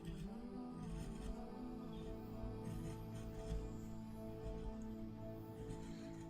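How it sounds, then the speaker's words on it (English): A flat chisel pares smooth curves into a wooden owl carving, giving a faint, steady rasping scrape with small uneven strokes throughout. "you can actually cut smooth curves, which is what I'm doing here"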